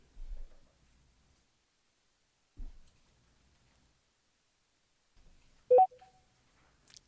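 A caller dials in to a planning commission public hearing by pressing star three, giving a single short, clear keypad tone after faint clicks and near-silence, with no talking.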